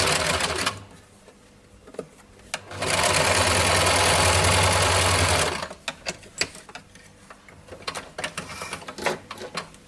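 An electric sewing machine stitches a blouse, starting with short bursts, then running in one steady whirring stretch of about three seconds, followed by lighter clicks and handling sounds.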